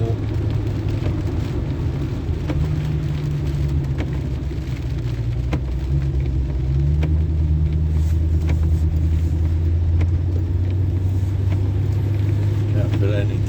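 A Daimler car drives along a snowy open road, its engine a steady low droning rumble with shifting tones, and a person talks over it.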